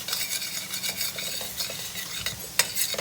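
A spoon stirs curried pumpkin with salt in a pot, a steady scraping and gentle sizzle running throughout, close up, with one sharper knock near the end.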